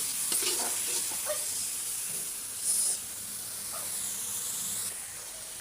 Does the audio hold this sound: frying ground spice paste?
yes